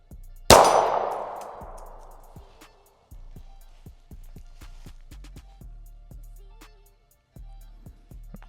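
A single gunshot strikes a steel target about twenty yards out at an outdoor range, giving a sharp ringing clang that fades over two seconds, followed by a series of softer knocks and thuds.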